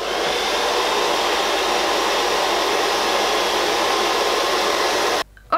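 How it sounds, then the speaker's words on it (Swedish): A hair dryer blows steadily to dry paint on a handmade squishy, a loud continuous whooshing roar held for about five seconds before it suddenly cuts off. "jag tänker att jag kommer blåsa torr den här färgen med min hårtork, så att det inte är kladdigt något mer."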